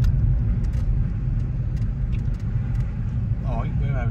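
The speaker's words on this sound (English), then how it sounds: "Hence why there's lots of traffic about." Road traffic rumbles steadily around a car driving through Norwich on a busy Saturday afternoon, a low continuous engine and tyre drone with faint clicks over it.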